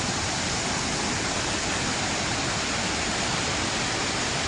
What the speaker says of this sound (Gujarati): ચોમાસાના સમયમાં પોતાની પૂર્ણ ક્ષમતાએ વહેતો આ ધોધ જાણે કે કોઈ ફિલ્મના દ્રશ્યો હોય તેની યાદ અપાવે છે